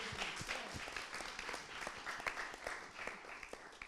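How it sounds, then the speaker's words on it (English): Applause from a modest audience, a scattered patter of clapping that runs steadily for a few seconds at moderate loudness with no voices over it. "So you need to give yourself a round of applause."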